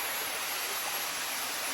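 Waterfall at Bua Tong Sticky Waterfall in Chiang Mai, a steady broadband rush of falling water that stays even and fairly close throughout, with no voices.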